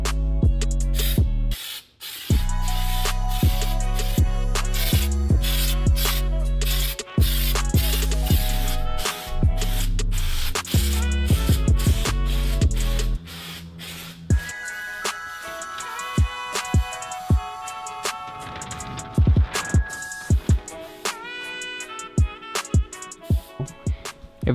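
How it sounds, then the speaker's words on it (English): Krylon undercoating sprayed from an aerosol can onto a Nissan S15 underbody, loud close hissing bursts in short irregular blasts, with hiss and clicks continuing more sparsely afterward. "we can spray the undercoating from Krylon"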